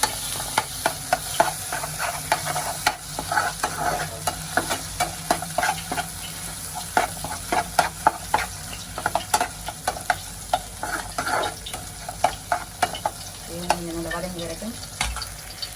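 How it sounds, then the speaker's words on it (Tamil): Goat blood frying in oil in a pan, a constant close sizzle punctuated by rhythmic scraping clicks of a spoon stirring it, steady and moderately loud across the clip, with no one talking. "இதுக்கு வந்து நாங்கள் எண்ணெய் விடுவோம் அடுத்து ரத்த பொடிகளுக்கு எண்ணெய் விடுவோம் அது கொதிச்சதுங்க"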